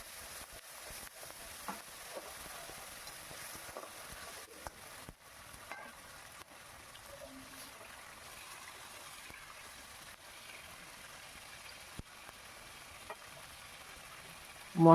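Dried red chilli paste frying in oil for a tilapia fish curry is stirred in a pan, giving a soft, close sizzle with intermittent scraping stirs and a louder clatter at the end.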